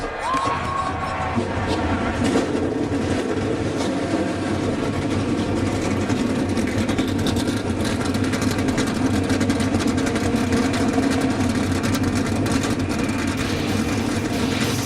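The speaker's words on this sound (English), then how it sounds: "Drivers, start your engines." A field of NASCAR race car engines rumbles steadily at idle after being started at Gateway Motorsports Park, a loud, continuous low drone under a cheering crowd, with no clear speech.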